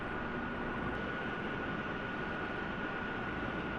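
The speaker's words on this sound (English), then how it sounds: "a fleet of 14 AWACS Boeing E3-Sentry aircraft operates permanently" A Boeing E-3 Sentry AWACS aircraft flies in the ARMA 3 video game, giving a steady broadband engine roar with a faint high tonal whine, constant and unbroken throughout.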